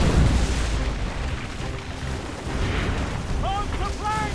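Warship cannon fire in an Assassin's Creed-style naval battle, heavy booms rumbling at the start amid shouted orders, with battle noise and voices continuing throughout.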